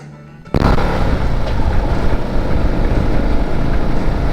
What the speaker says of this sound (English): But let's take the bike for a ride.